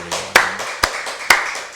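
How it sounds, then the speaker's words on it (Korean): A few distinct claps ring out in a church service, three sharp separate strikes spaced about half a second apart over a low hum of the room, fairly close and alone without talk. "우리 박수를 하나님께 영광 드리겠습니다"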